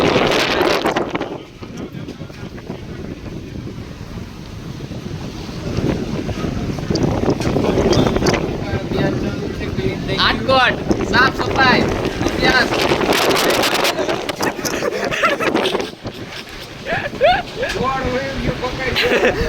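Strong wind gusts outdoors in Atkot during a storm buffet the microphone with loud, steady roaring broadband noise throughout, under frequent excited talking from several people.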